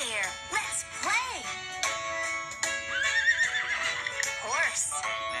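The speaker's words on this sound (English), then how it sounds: "Horse." A horse whinnies in two rising-and-falling neighs, with hoof clip-clops in between, while a voice talks over the sounds.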